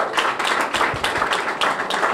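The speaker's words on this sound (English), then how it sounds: "So give Ronald Moten a big round of applause." Audience at a grand opening ceremony for Check It Enterprises gives a round of applause for Ronald Moten, with close, dense clapping that stays steady and loud throughout.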